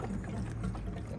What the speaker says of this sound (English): Oh well, the fuel's going in, you can hear it.